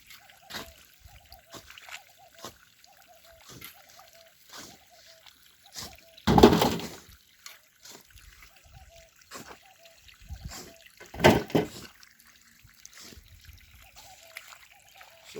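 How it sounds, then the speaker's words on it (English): Water splashing down onto freshly backfilled foundation soil outdoors, two loud bursts standing out over a quieter stretch of faint trickling and ambient noise. "If you pour water, it's going to sink down."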